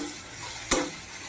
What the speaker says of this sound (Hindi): भल से आमे 2 मिनट तक भाजी देमा।